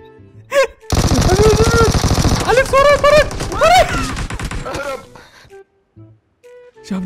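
Rapid automatic gunfire from the mobile shooter PUBG Mobile rattles in dense bursts, loud and close, mixed under an excited shouting voice, then thins to scattered faint shots.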